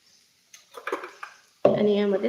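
Homemade chivda made from leftover chapati pieces and peas is scraped from a pan onto a plate in a short run of close metallic clinks and scrapes, followed by someone talking.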